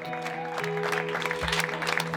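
Audience applause at the close of a French television show about apprentices, a steady broadband patter of clapping under sustained music-like tones, moderately loud and continuous throughout.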